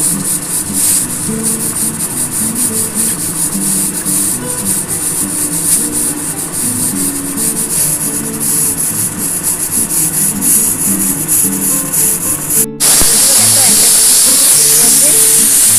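Pressure cooker hissing steam while chicken stew cooks, a loud continuous hiss close by that cuts off abruptly and resumes sharper near the end, with someone speaking over it.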